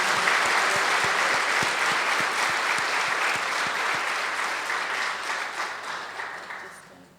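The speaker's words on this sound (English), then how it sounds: "with uproaring applause, please welcome Dadi Janki in your presence" Audience applause welcoming Dadi Janki, a Brahma Kumaris speaker, at a public talk: dense, sustained clapping from a large crowd, steady and loud before gradually fading toward the end.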